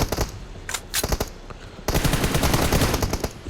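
Rapid automatic gunfire rattles in close, loud bursts within a shooter video game, with a short pause before a longer sustained volley.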